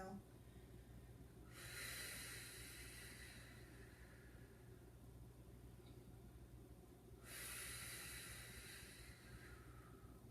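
Two long breaths during an exercise session, each a soft airy rush lasting a few seconds over steady low background hum, close but quiet, with no speech.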